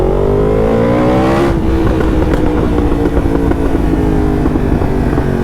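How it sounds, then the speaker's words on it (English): A second-generation Yamaha MT-10 motorcycle with an Akrapovic exhaust revs loudly close by, the engine note climbing and then dropping, with sharp popping backfires breaking through the roar. "And those backfires are the most addictive thing in the world."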